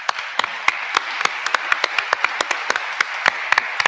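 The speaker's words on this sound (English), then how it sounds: "a round of applause for everyone who helped make this possible" Applause from an audience at a dance company premiere performance: sharp, distinct hand claps in a quick, fairly regular patter, like a modest group clapping close by, with no talk on top.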